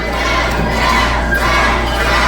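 A loud crowd at an independent pro wrestling show cheers and shouts in a steady, dense roar that fills the whole stretch, with children's yells mixed into the noise.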